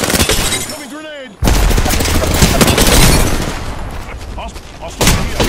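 Apex Legends gunfire and a grenade blast erupt in a dense, loud burst of shots and explosive crackle after a short pitched voice line, with game voice callouts mixed into the chaos.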